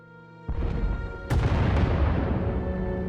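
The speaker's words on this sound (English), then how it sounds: "Sounds like the bombing's getting closer." Heavy explosions on Ord Mantell in the game Star Wars: The Old Republic boom one after another, a deep blast followed by a second, louder detonation with rumbling debris, continuous and close, like a battlefield bombardment.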